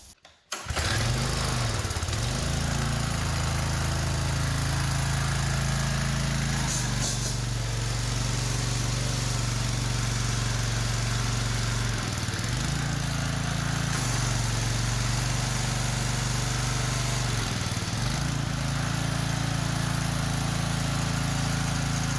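Small gas engine on a pressure washer starts and runs at a steady, loud idle, with its pitch dipping briefly a few times as it labors.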